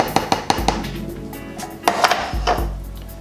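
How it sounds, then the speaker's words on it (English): Chopped onions tipped into a pan of chickpeas, with a quick series of metallic clinks and taps from a utensil against the pan, then a pause and a few more knocks and a soft sizzling wash underneath. "what we're gonna do is add our onions to our chickpeas"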